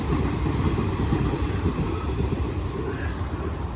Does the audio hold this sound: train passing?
yes